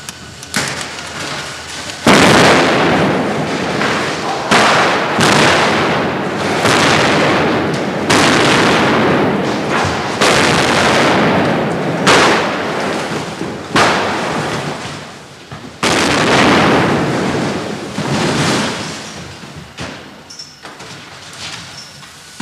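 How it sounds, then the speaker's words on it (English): A series of loud, booming special-effects explosions for a film set, blasts and roaring bursts one after another, with rumbling debris noise filling the gaps between them. "so extra cameras are brought in to capture the final explosion"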